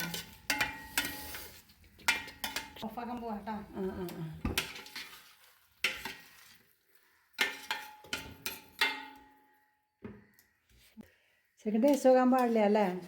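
A spoon scrapes and clinks against a pan while Ettangadi, a Thiruvathira festival sweet, is stirred, producing intermittent close metallic scraping in short bursts. Several people talk over and between the stirring.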